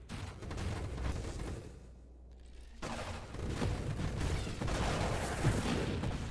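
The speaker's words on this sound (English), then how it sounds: "So I can be really judicious with my mortars here" Mortar fire in the space shooter game Nova Drift, a dense barrage of booming shots that rolls on steadily, breaks briefly into near quiet, then resumes loud and continuous.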